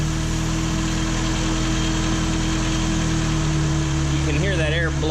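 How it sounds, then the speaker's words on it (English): A car engine idles steadily while air hisses from the PCV system under pressure, a continuous close whoosh over the engine hum, with a voice briefly heard near the end. "you can hear that air blowing out of there"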